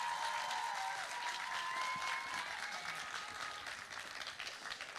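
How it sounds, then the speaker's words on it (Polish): A crowd at a male pageant gala applauds loudly and continuously after a contestant's performance, thinning slightly toward the end, with faint whistles or cheers mixed in. "Wielkie brawa, dzięki."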